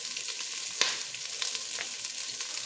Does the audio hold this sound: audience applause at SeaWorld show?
no